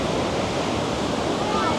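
Hog's Back Falls, a city waterfall in Ottawa, gives a steady, broadband rush of falling water that stays loud and even throughout, with faint wind noise and no clear voices.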